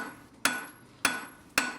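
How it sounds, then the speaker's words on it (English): A blacksmith's hammer strikes a hot metal bar at an angle to forge fullers into it, three sharp ringing blows spaced about half a second apart, close and clear with no talking. "Using the hammer in this position will force grooves, or what we call fullers, into the surface of the bar"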